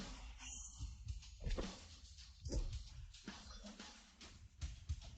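A vicious dog snarls and whimpers in a fight, with rough growls and yelps over dense, noisy scuffling throughout.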